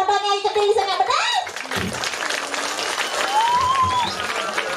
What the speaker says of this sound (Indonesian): Ini tepuk tangan ya.